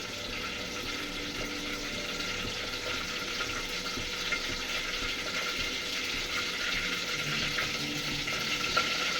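Eggs frying in well-heated oil in a pan give a steady, loud broadband sizzle and crackle that holds evenly throughout, with no talking.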